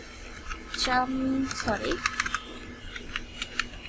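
Fingers type on a computer keyboard while working in MS Word, a scatter of close, light key clicks in uneven bursts, with a brief voice-like sound early on.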